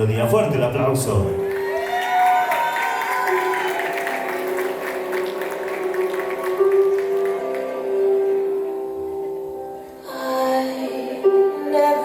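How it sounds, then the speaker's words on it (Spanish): Wedding guests applaud and cheer at Brenda and Ricardo's reception while music with sustained tones plays over the clapping, steady and fairly loud throughout, briefly dipping near the end. "fuerte el aplauso."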